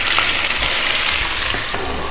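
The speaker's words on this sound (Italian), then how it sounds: "piano piano incominciamo a far cuocere tutti i nostri calamari" Stuffed squid cooking in a pan with herbs, a steady broadband sizzle with faint bubbling pops running throughout, close and fairly loud, no voices.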